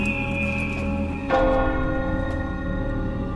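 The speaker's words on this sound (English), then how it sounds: "They bring back that bell as well in Unity" A large bell tolls in an Assassin's Creed game trailer, sounding over a sustained musical bed with a bright metallic strike midway and a long ringing decay.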